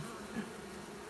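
Honeybees from a massive seven-foot hive found behind a house chimney buzz in a steady, close drone that stays constant for about a second with no talk.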